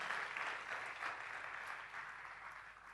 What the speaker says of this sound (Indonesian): Tepuk tangan sekali lagi buat Tuhan Yesus